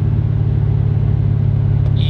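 A supercharged 550 hp C7 Corvette engine drones steadily and loudly from inside the cabin, a sustained low rumble under hard acceleration with no break in pitch.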